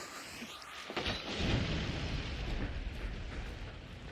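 In Hunt: Showdown, an incendiary bomb bursts with a sudden loud whoosh about a second in, then a dense roaring crackle of fire that holds steady to the end.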